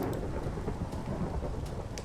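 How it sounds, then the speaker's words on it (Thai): Steady rain with rumbling thunder in the game Minecraft Pixelmon, a dense continuous downpour with a low rolling rumble underneath and no voices. "ฝนตกฟ้าร้องนั่นรำคาญมากทุกคน"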